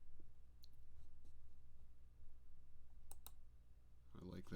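Mouse clicks while using the dropper tool in Inkscape, a few faint, sharp clicks spaced apart over a low steady hum, with a burst of louder noise at the very end.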